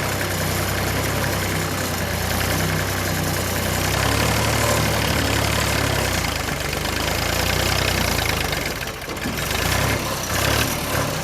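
Old Ford 8N tractor engine labouring hard under a heavy pulling load, a steady low rumbling drone with rough knocking that bogs down and dips briefly near the end as it nears stalling, close and loud throughout.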